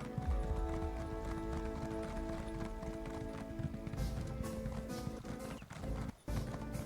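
Rapid rhythmic hoofbeats of a galloping horse in The Elder Scrolls Online, steady and close, over a dense layer of background game sounds, with a brief dip near the end.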